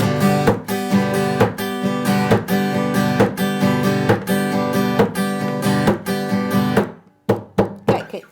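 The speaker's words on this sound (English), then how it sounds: "my pinky is kind of whacking the body of the guitar." Acoustic guitar strummed in a steady rhythmic pattern, the pinky whacking the wooden body to add percussive thumps on the beat; close and loud, playing alone without talk, stopping near the end with a few isolated hits.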